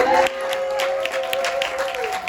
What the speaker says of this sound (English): let's cheer for Kevin